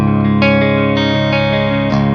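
An electric guitar plays through the clean channel of an ENGL Ironball amp, sustained chords with a few new strums ringing out loud and full, with no talking over them.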